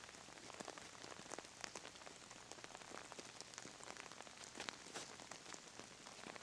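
Steady rain falls on an outdoor disc golf course during a tournament round, a dense, even hiss sprinkled with sharp individual drop hits, continuous throughout with no voices.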